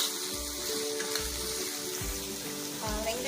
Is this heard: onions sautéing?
yes